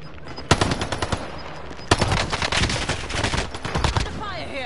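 Call of Duty Warzone machine gun fire, loud and close, with sharp bursts of rapid shots packed into dense volleys and brief pauses between them.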